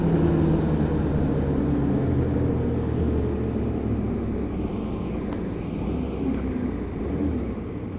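Hyosung GT125R 125cc motorcycle engine on the move, a loud steady droning hum with heavy rumble and wind roar, holding an even level throughout with no talk.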